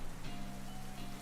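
Rain weather effect in Pokemon Scarlet and Violet, a faint, steady patter of rainfall hissing evenly throughout with no talking.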